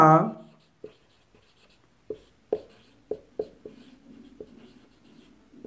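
Chalk writing on a board during a maths lesson gives a string of short taps and scratchy strokes, spaced irregularly and moderately close, after a brief bit of speech at the start.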